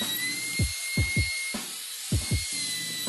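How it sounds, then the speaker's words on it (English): Short bursts of a high-pitched router with a roundover bit cutting wood corners, five or so separate passes with brief pauses, over a steady background hum. "I'm going to soften the corners with my roundover bit and my router"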